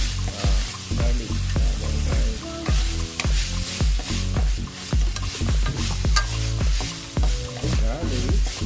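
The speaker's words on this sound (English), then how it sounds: "Now it's time to put the garlic." Garlic frying in a pan at an outdoor backyard cooking setup, with steady sizzling under repeated stirring and scraping strokes in a busy rhythm, close and fairly loud, no talking.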